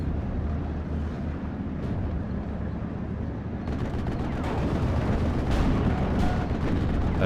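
Vehicle gunfire from armored cars in the WWII strategy game Steel Division: Normandy 44, with shots and booms over a constant battle rumble that grows busier and sharper in the second half; no one speaks.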